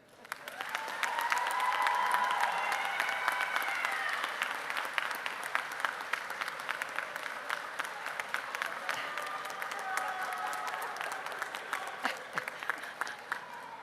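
Audience at a college commencement ceremony breaking into sustained applause, a dense wash of clapping that swells quickly, stays loud, then slowly thins near the end.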